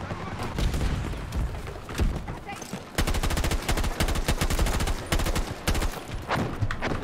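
Rapid rifle gunfire in the video game Battlefield 2042, loud sustained automatic bursts with dense repeated shots, especially steady in the second half, with occasional talk mixed in.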